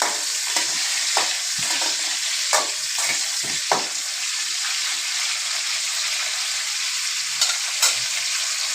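Food being stirred in a pan with steady sizzling throughout, several sharp scraping knocks of a utensil against the pan, close and fairly loud.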